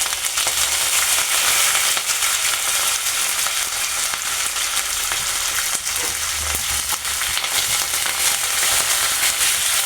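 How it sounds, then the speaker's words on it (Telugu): Mustard seeds, cumin and curry leaves fry in hot oil in a pan, sending out a loud, dense crackling sizzle with scattered pops that runs the whole time, no voices. "ఒక స్పూన్ ఆవాలు, కొద్దిగా జీలకర్ర, అది కొంచెం ఫ్రై అవ్వాలి"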